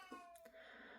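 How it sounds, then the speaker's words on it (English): A house cat gives a single brief, faint meow indoors. "I am sorry about my cat."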